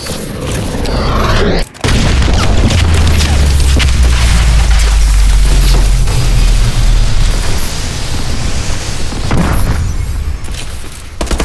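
Bombing-run explosions from a video game rumble loud and continuous, a dense barrage of deep booms with one brief dropout early on, then continued heavy blasts fading somewhat toward the end, with no talk.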